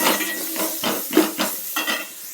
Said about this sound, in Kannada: ಫ್ರೈ ಮಾಡಬೇಕು ಪುದೀನದು.